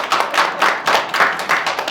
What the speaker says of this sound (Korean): 힘을 좀 드리는 의미에서 박수 한번 드립니다